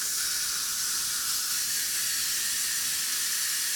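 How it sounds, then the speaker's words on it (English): Steam blasts out of a pressure cooker's release valve as a loud, steady, close-up hiss that holds unbroken throughout. "First thing with the pressure cooker you have to do is release the steam."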